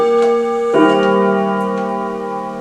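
A clock chimes for the hour with a metallic tone: a sustained ringing note that gives way to a second struck tone, which rings on and slowly fades, heard alone with no voices.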